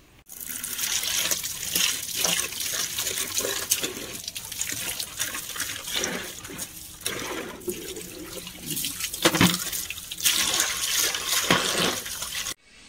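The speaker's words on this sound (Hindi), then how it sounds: "आपण माने नॉर्मली जेमति पानी ढाळी के धोंती धोई देबे" Water is poured and splashes steadily into a plastic bathroom bucket during rinsing, a loud, close gushing with brief surges and pauses throughout.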